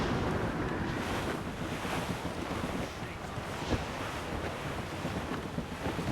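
Strong wind and rolling ocean waves at sea in Assassin's Creed Rogue, a steady loud roar with surf wash around a sailing ship, continuous without a break.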